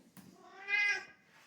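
A single drawn-out cat meow, rising and falling, close and fairly quiet, with a soft tap just before it.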